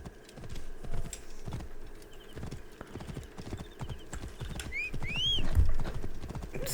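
Horse hooves clip-clop at a steady rhythmic trot in the video game Assassin's Creed Origins, with soft game ambience and a brief whinny-like call near the end.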